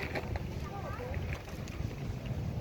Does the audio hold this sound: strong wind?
yes